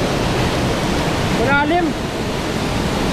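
Batlag Falls in Tanay, Rizal, with a strong current roars steadily as a dense, continuous broadband rush of falling water, while a voice shouts briefly over it midway.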